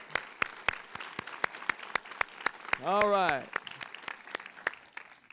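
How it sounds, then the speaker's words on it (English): Sparse, evenly spaced claps from an audience at an awards celebration, the individual slaps distinct rather than dense, with a short burst of speech cutting in near the middle. "let's give yourselves a big round of applause for your great work"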